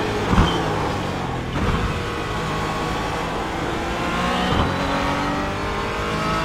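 A Porsche 718 Cayman GT4 races in iRacing, its engine droning steadily and loudly throughout, with a few brief bumps and gear changes but no talk over it.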